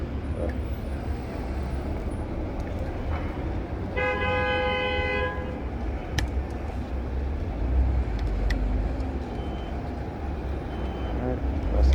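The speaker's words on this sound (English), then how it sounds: "that's the express bus" An express bus passing along a busy road, with a constant heavy traffic rumble and a brief, loud horn toot partway through.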